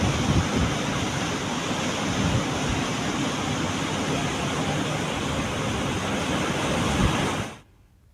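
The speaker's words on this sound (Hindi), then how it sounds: "इस पर 8 फीट ऊपर से पानी बह रहा है।" Floodwater on the Shivnath river pouring eight feet deep over a structure, a loud, continuous, broad roar of rushing water that holds steady, then cuts off abruptly near the end.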